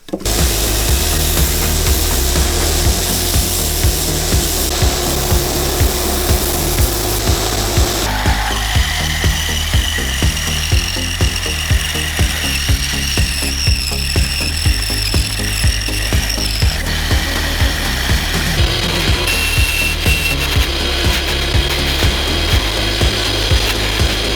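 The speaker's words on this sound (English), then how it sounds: "I've got to get my brass sanded down there, cut them to rough shape, and then sand them and shape them." Brass stock for knife handles being cut and sanded in a workshop, a loud continuous power-tool grind and rasp that shifts in pitch partway through and keeps going steadily with no talk.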